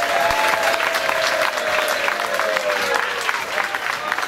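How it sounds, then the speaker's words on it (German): Audience applause for the first-place team, KC Frösche, at the 2017 Diljemer Kerwe village fair, steady and dense from many hands throughout, with faint crowd murmur and a tonal whine gliding beneath. "einen Applaus"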